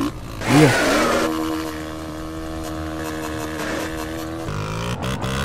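Motorcycle revving in GTA San Andreas, a 160 bike's exhaust rising in a sharp throttle blip, then holding a buzzy, steady engine drone with harmonic whine before dropping to a lower idle, loud and close.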